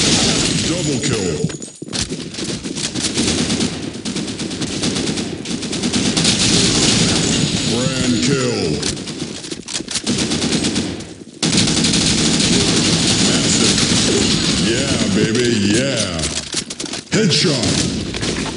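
Dense, loud gunfire from the online shooter game Blackshot, with rapid automatic bursts and explosive hits nearly nonstop, a few short gaps, and in-game voice callouts mixed in.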